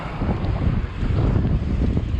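Steady, loud wind buffeting the microphone while cycling on a bike route between Üsküdar and Beykoz, a continuous low roar with no other clear sounds.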